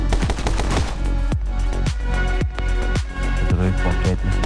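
Gunfire in the video game My Friend Pedro, with sharp shots cracking in a quick, uneven rhythm over a loud backing of music. The shots are close and punchy and come in clusters throughout.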